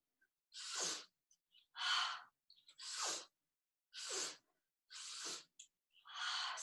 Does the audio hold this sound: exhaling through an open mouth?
yes